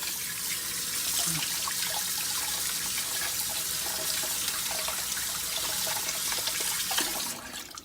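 Steady running water splashing from a tap as food is rinsed under it, continuous and close, fading out near the end.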